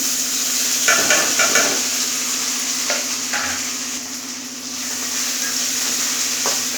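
Cluster beans with curry leaves frying in a pan while being stirred, a steady close sizzle with a few scraping bursts of the spoon against the pan, no talking.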